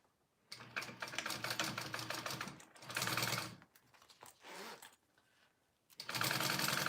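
A sewing machine stitches a piece onto a crossbody bag in bursts: a long steady run, a short pause, a second run, a softer stretch of fabric handling, then another run starting near the end.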